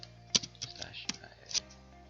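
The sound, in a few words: typing on a computer keyboard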